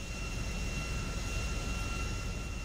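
Small passenger airplane taking off from the international airport in Los Santos in the video game GTA V, a steady loud engine roar with a constant whine running through the whole stretch, no voices.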